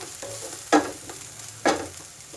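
Crushed green chili frying in a pan for a palak tomato curry, a low sizzle broken by two loud bursts of sputtering spatter about a second apart, close and without voices.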